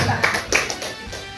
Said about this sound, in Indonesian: Tepuk tangan untuk Ibu Waskur kita.